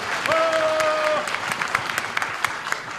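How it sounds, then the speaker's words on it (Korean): A crowd at a Korean party launch rally claps warmly for a candidate being introduced, a dense burst of applause with a brief whistle early, then scattered individual claps as it tapers off. "뜨거운 박수로 응원해 주십시오"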